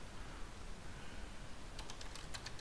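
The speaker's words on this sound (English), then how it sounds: "So I'm going to type the host name." A quick burst of keystrokes on a computer keyboard, a host name being entered, rattles faintly over a low steady hiss and comes in only after a quiet stretch.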